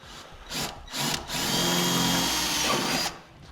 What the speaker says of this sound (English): we'll go ahead and drill our pilot holes